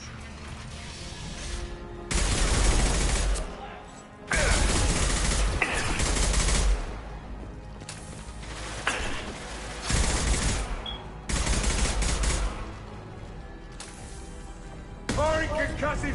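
Heavy rapid gunfire bursts from a video game's concussive shot weapon, loud and concussive, arriving in several long sustained volleys with short gaps between them.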